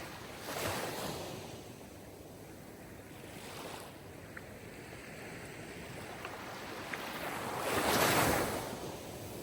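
Sea surf rolls in as waves break and wash in slow swells, rising to a loud crash near the end, with a constant hiss of water and wind and no voices.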